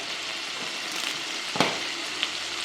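Curry leaves frying with chopped tomatoes in a hot pan for a Kerala taro leaf curry: a steady close sizzle with a sharp crackling pop partway through and a smaller one near the end.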